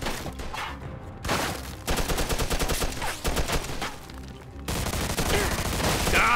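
Rapid automatic gunfire from the Mafia II Definitive Edition video game crackles in dense, continuous volleys with short breaks between bursts, loud and close.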